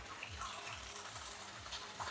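Water is splashed over a person resting outdoors by a field, heard as a faint, steady wash of spray and trickling with no talk over it.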